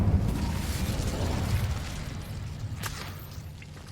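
A fire spell bursts out in Hogwarts Legacy, a rumbling, roaring whoosh of flame that starts loud and slowly fades, with a short pop near the end and no talk.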